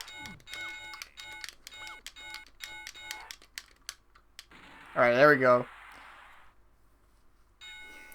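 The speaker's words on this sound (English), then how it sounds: "Every button is a bell ring" Rapid bell-like dings ring out from button presses in a Mega Drive video game, a quick regular series of bright tones, then a short burst of voice and a few more chimes.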